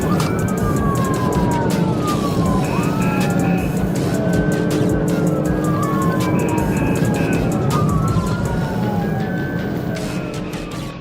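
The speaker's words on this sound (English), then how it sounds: "Officers activated lights and sirens, but the driver refused to stop." A police car siren wails in repeated rising and falling sweeps over loud road and engine noise during a pursuit, close and continuous.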